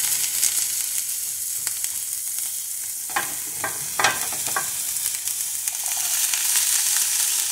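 Onions frying in a pan for tomato sauce, a continuous hissing sizzle near and fairly loud, with a few soft scrapes and taps of a utensil partway through, and no speech.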